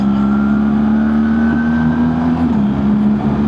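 A car engine under an automatic gearbox drops down a gear, a loud steady in-cabin drone whose pitch holds then shifts slightly as the change happens, no talk.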